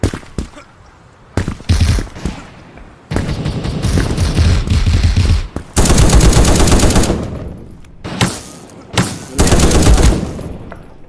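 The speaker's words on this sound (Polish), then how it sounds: "a on z Desert Eagle strzela" Desert Eagle pistol shots in the shooter game Krunker, loud bursts of gunfire coming in clusters over about eleven seconds with short pauses between volleys.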